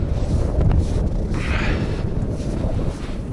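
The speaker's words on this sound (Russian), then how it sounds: "Ух, ветрище-то, а? Злое." Strong wind gusting across a frozen lake during winter ice fishing, a loud low roaring rumble buffeting the microphone, easing slightly toward the end, no talking.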